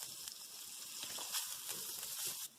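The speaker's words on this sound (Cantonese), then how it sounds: "用返同一隻鑊，加一啲油，用中火，爆一爆啲薑、香茅、" Ginger, lemongrass and pandan leaves stir-fry in a little oil in a wok over medium heat, giving a soft, steady sizzling hiss with faint scraping movements.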